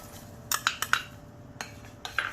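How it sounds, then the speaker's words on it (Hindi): A metal spoon clinks sharply against a pot several times, in uneven bursts, while sago pearls are stirred into boiling milk for Sindhi-style sabudana kheer. "अब इसमें डाल देंगे साबूदाने"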